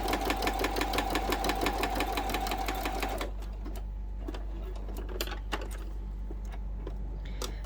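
A sewing machine stitches a seam on a fabric corner bookmark, running in a fast, steady mechanical rhythm for about three seconds and then stopping, leaving faint clicks and light handling noises behind.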